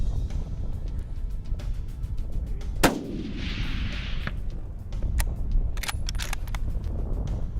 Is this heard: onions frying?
no